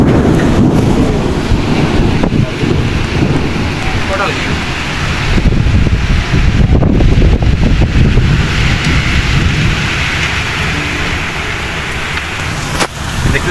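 Strong wind and rain buffet the microphone throughout, a loud continuous roar and patter that never eases, with a voice talking at times underneath.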